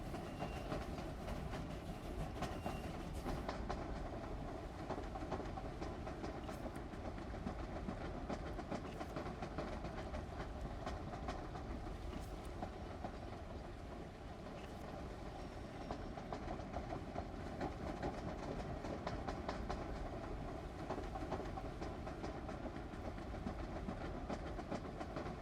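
A train rolls along its tracks in the video game Infinity Nikki, making a continuous rumbling clatter with faint rhythmic clicks. The sound is steady and moderately quiet, with no talking throughout.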